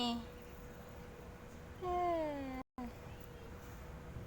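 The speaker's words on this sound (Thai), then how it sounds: "เจอแมวน้อยมาเข้าห้องน้ำ หน่ารักจังเลยลูก" A small kitten found wandering into a restroom near a playground gives a few short, rising meows, fairly close and alone against a quiet background.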